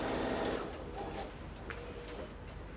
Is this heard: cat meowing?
no